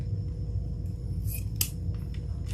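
Scissors trimming the tails of ribbon loops on a Christmas craft made from scrap wood: a few quick, crisp snips close by over a low steady background hum.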